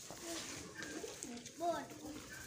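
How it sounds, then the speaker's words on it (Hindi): A pigeon coos softly a couple of times amid quiet background chatter and ambient noise. "कबूतर रखा हुआ है"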